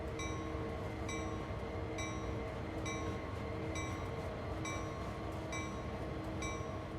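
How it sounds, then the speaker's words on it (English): Intermodal freight train rolling into a rail yard off the main track in Train Sim World 2, a steady rumbling drone with regular rhythmic clicks and faint metallic tones running throughout, no talking. "just to our right we have an intermodal headed into Cumberland Yard coming off of the main track"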